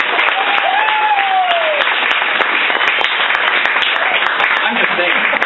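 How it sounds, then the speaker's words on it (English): An audience at a book launch gives a warm round of applause for the cover designer, steady, full clapping with scattered cheers and a rising whoop, continuing at even strength throughout. "Huge round of applause for Mr. Gord Oxley for designing the cover."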